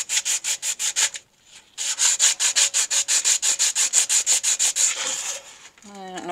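Wet 180-grit sandpaper is rubbed by hand over a resin-coated tumbler, making a steady series of quick, close back-and-forth scraping strokes that pause once briefly. A short voice is heard at the very end.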